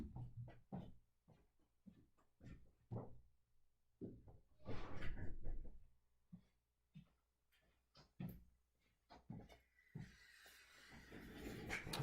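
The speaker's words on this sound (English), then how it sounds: "And I'm going to close the door." A door closes inside a guitar pedal shop, heard as a run of close knocks and thuds mixed with handling clatter and a brief hiss, with no one talking.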